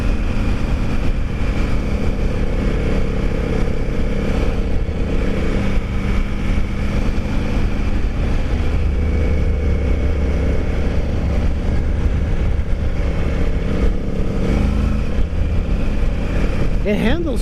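A 2021 Triumph Tiger 900 Rally Pro motorcycle with a 21-inch front wheel rides along with a steady, loud engine drone and wind rush, while a rider talks over it.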